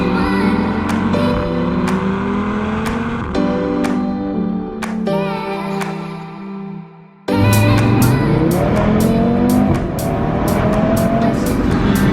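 A 2018 Audi RS3 Stage 1 with a 2.5-litre TFSI five-cylinder tuned to 510 bhp pulls hard under throttle, its revs climbing through several gear changes with sharp shift cracks, then a brief lift before another loud surge.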